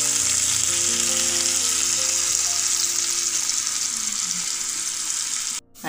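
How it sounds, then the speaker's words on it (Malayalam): Karimeen fish, Kerala style, fries in a pan with a loud, continuous close hiss and crackle of hot oil that cuts off abruptly near the end. "അങ്ങനെ നമ്മൾ മീൻ ഇത് പൊരിച്ചെടുത്തിട്ടുണ്ട്, പൊരിച്ച് കോരിയിട്ടുണ്ട്."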